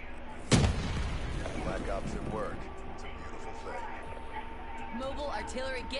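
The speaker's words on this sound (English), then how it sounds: "Artillery, get in the wind." Artillery strike in the Black Ops 3 video game: a single sharp, loud blast hits early, followed by a lingering rumble, with a voice talking over game sounds.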